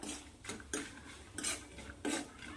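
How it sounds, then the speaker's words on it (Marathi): Peanuts being dry-roasted and stirred in a pan over low heat for a garlic and coconut chutney, a spoon scraping and clinking against the metal in a few distinct strokes, close and fairly quiet. "आता छान शेंगदाणे खरपूस होईपर्यंत असं मिक्स करून फिरवत राहायचं आहे भाजून घ्यायचं आहे याला"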